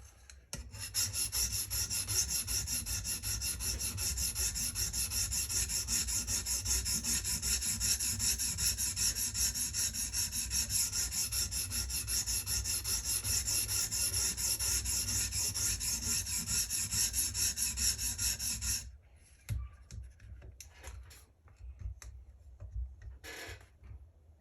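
Continuous close scraping and rubbing as a blade is drawn across the abrasive stone of a TSPROF Kadet Pro sharpening system, steady for most of the stretch before ending in a few light clicks and handling noises.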